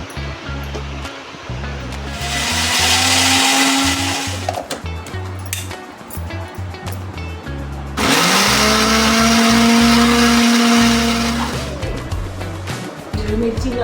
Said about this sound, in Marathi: हिरवी मिरची, जिरे, धने हे सगळं वाटून घ्यायचं.